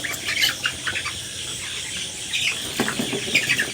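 A medium-sized chicken on a poultry farm flaps its wings hard and clucks while being grabbed, producing fluttering bursts and squawks close by with no talking.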